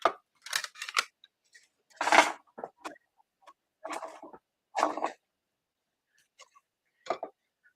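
Mat board pressed through a Forever Plaid embossing folder for a Stampin' Up! winter card, giving a series of short crinkling, scraping bursts separated by silent gaps.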